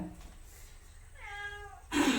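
A cat meows once with a drawn-out, wavering cry, followed by a sudden louder noise near the end; faint background hiss throughout.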